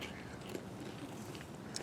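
Crunchy bites of Drumstick chocolate mint cereal with graham-cracker pieces, a steady close crackle of chewing with a couple of sharper crunches, no talking.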